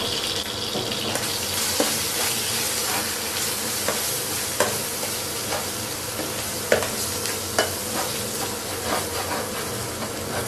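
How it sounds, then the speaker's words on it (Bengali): Spice masala sizzles and fries in a pan while a spoon stirs it, with a steady hiss broken by regular scraping taps and clinks at close range. "মশলাটা ভালো করে কষায় নিতে হবে।"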